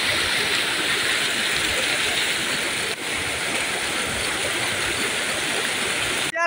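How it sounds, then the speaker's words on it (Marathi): A monsoon stream in the Konkan countryside rushes steadily nearby, a loud, unbroken wash of flowing water with a brief knock near the end. "हा बघा ओढा"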